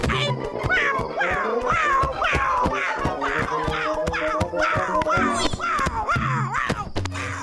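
A cartoon cat meows repeatedly in quick, rising-and-falling cries over a rhythmic backing of music, loud and up front, with short plucked beats underneath.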